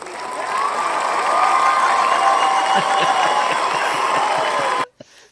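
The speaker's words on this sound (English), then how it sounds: "Look at that applause." An audience at a livestreamed holiday event applauds and cheers in a dense, sustained burst of clapping with some shouts, holding steady for several seconds before cutting off abruptly.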